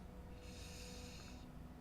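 A voice imitates a furry creature snoring, a single drawn-out, faint, breathy snore lasting about a second, alone with no talk around it.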